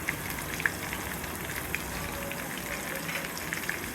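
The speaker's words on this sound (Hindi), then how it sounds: "ये सबको अच्छे से फ्राई करेंगे" Pakoras fry in hot oil in a pan while making Memoni kadhi, a dense, even crackling sizzle with scattered pops, close and steady throughout.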